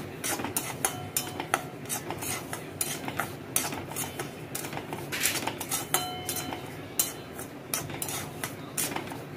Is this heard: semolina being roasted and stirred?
yes